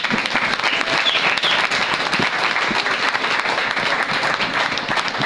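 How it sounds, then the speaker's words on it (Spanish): A church congregation applauds, dense and sustained clapping from many hands filling the room at an even level, with a few voices faintly mixed in. "Dale un fuerte aplauso al Señor."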